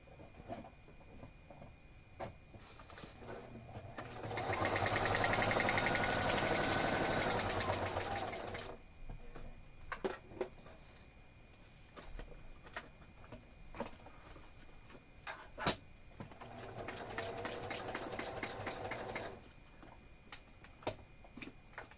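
A sewing machine runs in two fast stitching bursts, a rapid mechanical whir with pauses of quiet clicks and handling between them.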